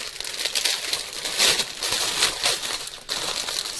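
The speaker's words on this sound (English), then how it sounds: "Let me get this open." A small fabric Pin Pals bag from a quilt shop treat box being opened, with continuous close plastic crinkling and rustling and a few sharper crackles throughout.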